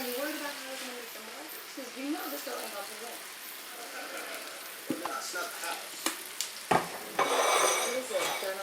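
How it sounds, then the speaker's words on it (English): Chicken and bacon frying for a potato sandwich, a soft steady sizzle with metal spatula scrapes and clanks against the pan growing louder toward the end, while people talk over it. "Let me get the sizzle."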